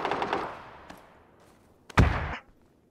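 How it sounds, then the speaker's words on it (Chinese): Gunfire in a shooting video game: a rapid rattling volley at the start that fades out, then a short, loud burst of shots near the end, with no talking. "给他吓的，直接开枪了"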